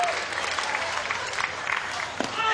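A Little League baseball crowd in Goodlettsville, Tennessee stands and cheers with sustained clapping, while a commentator talks over the applause.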